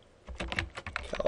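Typing on a computer keyboard while entering a street address, a quick run of several close, crisp key clicks over about a second, alone without talk.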